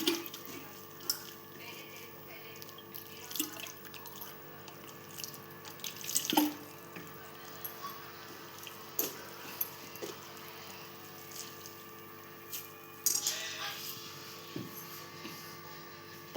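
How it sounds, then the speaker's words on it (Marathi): Grated potatoes are rinsed in water, with scattered splashes, drips and sloshes coming in irregular bursts over a quiet background. "पुन्हा एकदा इथे आपण पाणी टाकून धुवून घेतोय"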